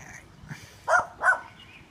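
A puppy barks twice in quick succession, two short, fairly loud yaps about a third of a second apart, with a faint quieter yelp just before and no talking.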